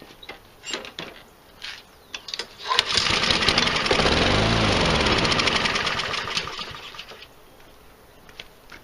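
A Husqvarna 7021R lawn mower engine, fitted with an unbalanced blade, starts up and runs for several seconds with a loud steady mechanical drone, then winds down and fades out.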